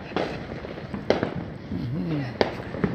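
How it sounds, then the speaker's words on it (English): Fireworks bursting during a 4th of July celebration, with several sharp, loud bangs spread across the stretch, a whistling rising tone in between, and voices talking in the background throughout. "Our firework, courtesy of Radio Suerte and the International"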